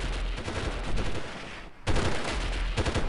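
Gunfire in the video game Delta Force, a steady rapid burst of loud shots that cuts out briefly and then resumes.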